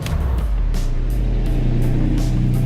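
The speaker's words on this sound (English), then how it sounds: "you are going to have to rev the engine quite hard" A 2018 Honda Jazz Sport's engine revs hard with rising and falling pulses of acceleration, loud and close, with no voices.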